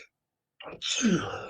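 A single person sneezes close up, a short breathy intake followed by a loud explosive burst that trails off, after a brief silence.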